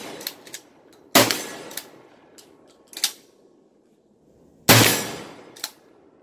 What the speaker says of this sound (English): So we're gonna shoot this bad boy and see what happens.